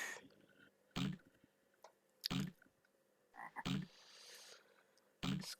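Frogs croak in the video game Zoombinis, four short loud croaks spaced about a second apart over a soft game ambience, with no talking.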